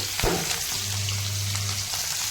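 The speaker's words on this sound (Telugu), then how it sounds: "కట్ చేసుకున్న ఎర్రగడ్డ, టమాటా, పచ్చిమిర్చి, కరివేపాకు ఇవి కూడా ఇందులో వేసి మనము దాన్ని బాగా" Onion, tomato, green chili and curry leaves fry in a pan with a steady sizzle, and a brief stirring clatter is heard near the start. There is no talk.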